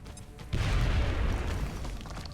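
A frag grenade explodes in the video game XCOM: Enemy Unknown as one loud, deep boom that rolls on as a sustained rumble for about two seconds.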